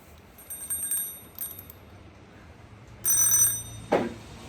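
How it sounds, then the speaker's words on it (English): A small egg timer rings in short metallic bursts: a faint ring early on, then a louder clattering ring near the end. It sounds close by, with no talking over it. "that little noise was this little egg timer"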